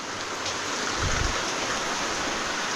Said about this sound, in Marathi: या बाजूला पाऊस पडतो आहे